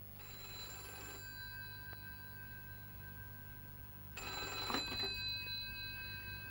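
A telephone bell rings indoors in two bursts of electric trilling separated by a pause, fairly faint against a low steady hum, with no talk.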